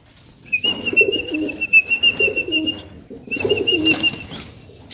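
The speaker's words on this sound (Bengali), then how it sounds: "পায়রাগুলো সবগুলো চলে এসেছে" Domestic pigeons coo in low, throaty bursts, two rounds separated by a short pause, with a steady high whistle-like tone running above them nearby.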